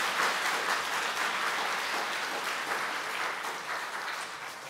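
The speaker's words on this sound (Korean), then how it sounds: "우리 격려의 박수 한번 해주시기 바랍니다" A church congregation at a Sunday afternoon worship service gives encouraging applause to a young preacher, a full, steady round of clapping that fades slightly near the end.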